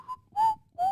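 A person whistles three short, clear tonal notes in quick succession, the later two longer and slightly rising, close and alone without talking.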